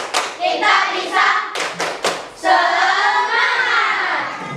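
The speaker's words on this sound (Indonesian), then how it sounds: "Tepuk semangat." Primary school class performs a rhythmic spirit clap chant, sharp synchronized hand claps in quick patterned bursts with children's voices chanting along between and after the claps, close and loud.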